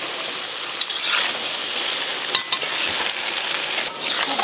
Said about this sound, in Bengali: ভালো করে কষে নিয়েছি আলু পটল